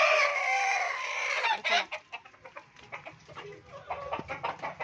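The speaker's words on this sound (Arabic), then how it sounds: "الفراخ بجيب لهم بقى شويه عليقه كده" Chickens clucking on a rooftop coop, close and fairly loud, with a rooster call among busy overlapping clucks and short chatter; a person speaks briefly.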